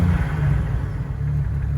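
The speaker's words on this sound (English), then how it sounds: "Give it a little rev." A car engine held at a steady, rumbling rev, close and fairly loud, with a low droning tone running unbroken through the short stretch.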